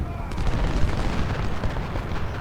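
Civil War artillery in Ultimate General: Civil War at Cedar Mountain fires at an enemy unit, a dense run of overlapping booms and rumbling blasts, loud and continuous throughout.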